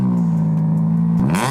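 A Mugen Honda Civic Type R engine runs at a steady, loud idle close by, then its revs climb sharply near the end with a rising growl.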